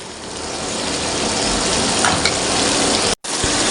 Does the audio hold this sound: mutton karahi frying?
yes